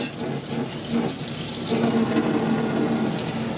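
Water from a tap runs steadily into a sink in an Adria Matrix Access 590 ST motorhome, a continuous close splashing stream with no voices.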